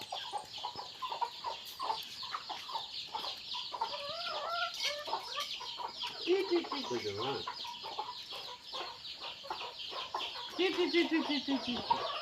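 Chickens clucking busily as they are fed grain, with layered close clucks and a few drawn-out calls throughout, while people talk intermittently nearby.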